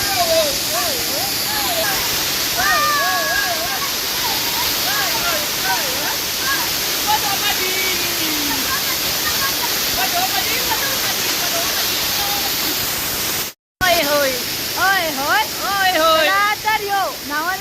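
Steady roar of the waterfall at Talavade in Devgad, Konkan, during the rains, loud and continuous, with voices talking over the rushing water and a brief dropout near the end.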